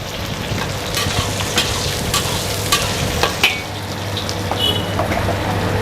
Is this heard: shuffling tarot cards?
no